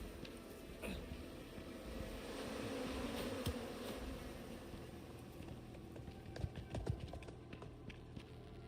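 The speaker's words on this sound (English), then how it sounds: "There's bees." Insect buzzing from bees in a video game drones steadily at low volume, layered with a rhythmic clip-clop of hooves and faint game ambience.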